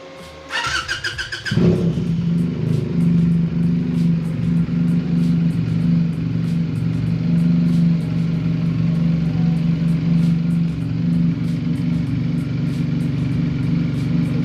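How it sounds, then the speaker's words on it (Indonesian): A Benelli TNT 250 motorcycle engine cranks briefly with a rattling starter, catches, then settles into a steady, rumbling idle that continues without change. "Kita coba nyalakan mesinnya."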